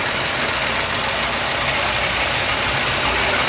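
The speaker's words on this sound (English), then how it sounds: "All right, now we're idling." Twin big-block engines on an old yacht idle right beside the listener, a loud, dense, continuous rumble with a steady low throb and no pauses.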